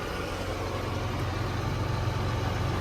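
A John Deere 8345R tractor engine idles with a steady, dense low rumble, close and continuous, with no voices over it.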